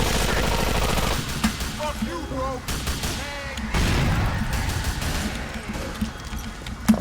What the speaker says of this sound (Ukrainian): Хто там стріляє?